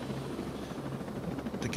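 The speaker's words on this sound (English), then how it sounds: "We'll jump into a helicopter." A helicopter in the video game Ghost Recon Breakpoint gives a steady, loud rotor thrum and whine that fills the whole clip, with a brief brighter rush near the end.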